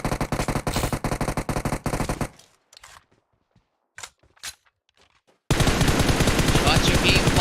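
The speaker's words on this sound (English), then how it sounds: "Shots are being fired." Rapid automatic gunfire bursts loudly in PUBG Mobile during an esports qualifier match, drops to near silence with a few isolated shots, then resumes as a dense, continuous volley of rattling fire.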